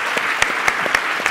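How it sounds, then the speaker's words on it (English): Short burst of audience applause at an air-cargo industry conference in Mexico, with a few sharper claps standing out against a dense, steady patter across the room. "please, a round of applause for Bernardo, for Antonio and Felipe."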